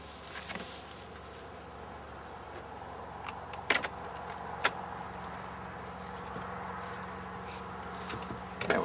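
Honeybees buzz around an opened hive as a feed cake is placed inside, a steady moderate drone with a few louder bees passing near, plus occasional sharp clicks of handling.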